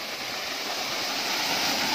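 A continuous, even rush of falling water from a waterfall off the old Gombak–Karak road at night, loud and unbroken with no voices.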